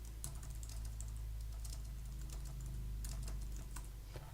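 Steady typing of custom excerpt text on a computer keyboard, fairly close, with irregular key clicks over a constant low hum and no talking.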